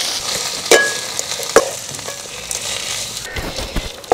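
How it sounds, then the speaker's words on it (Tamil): Thuthuvalai leaves sautéing in oil for a thokku, a close crackling sizzle broken by several sharp spatula scrapes and knocks against the pan. "இப்போ தூதுவளையும் பார்த்தீங்கன்னா நல்லா எண்ணெயில் நல்லா வதக்கலாங்க"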